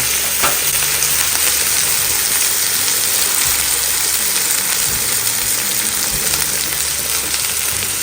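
Sliced onions sizzle and fry in hot oil for a leeks and tinned tuna sambal, a steady loud broadband hiss with occasional stirring scrapes, no voices.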